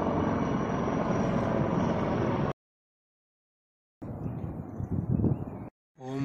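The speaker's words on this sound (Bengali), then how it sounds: "হেলিকপ্টারটা আসছে এইখানটা, দেখতে পাচ্ছেন যেমন হেলিকপ্টার" A helicopter approaching in the snowy mountains of North Sikkim: a steady, broad engine and rotor roar that holds loud, breaks off, then returns with some rising bursts.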